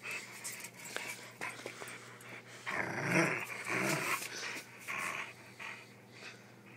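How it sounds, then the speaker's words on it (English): A young dog growls, snorts and pants while tugging hard on a rope toy, the rough growls swelling loudest midway, close by, with a voice talking over parts of it. "You gonna get the rope? You get the rope, big baby? Yeah. Get that rope. Show the rope who's the boss."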